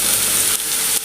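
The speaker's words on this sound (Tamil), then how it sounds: "வெங்காயம் வதங்கிடுச்சு." Onions sauté in a hot pan for Maggi noodles, a loud, steady, close hiss of sizzling oil broken by two brief dips as the pan is stirred.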